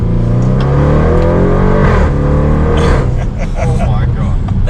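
Audi RS7 tuned to about 700 wheel horsepower accelerating hard in third gear, a loud close engine rev climbing in pitch and then dropping off, with voices talking over it.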